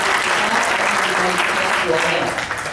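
Continuous applause from an audience, with voices mixed in, holding steady throughout.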